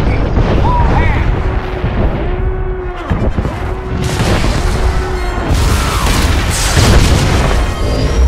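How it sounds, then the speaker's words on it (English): Incoming fire striking a ship in the video game SWTOR, heavy booming explosions and rumbling impacts layered with game music and alarm tones, loud and continuous across the whole stretch. "Warning! Warning! Incoming fire! All hands, brace for incoming!"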